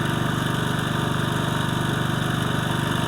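A small portable generator engine, earlier only running on choke because of a carburetor problem, runs steadily after starting, with a loud, even, buzzing drone and a rapid regular pulse, close by and with no talk.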